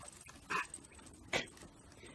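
A puppy gives two short, faint whimpering yelps close by against a quiet background.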